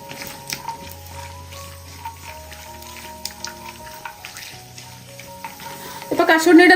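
Cashews sizzle in hot ghee over a medium flame, a soft frying crackle under a faint tonal background that swells into a sharp, louder burst of sizzling near the end.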